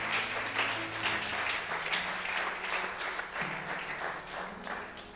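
A church congregation at a Friday miracles and prophecies service applauding to acclaim Jesus, sustained dense clapping from many people filling the room, with faint background tones beneath.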